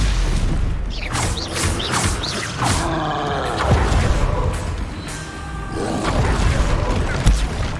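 Stupefy spell blasts boom and crackle in the Hogwarts Legacy video game, several loud bursts in quick succession over rumbling combat noise.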